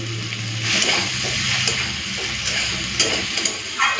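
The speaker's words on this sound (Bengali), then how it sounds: "তো একটুখানি নেড়ে চেড়ে নিলাম" Kochur loti with prawns and sugar stirred in a pan, giving a steady close sizzle of frying with soft scraping and occasional clicks of the spoon against the pan.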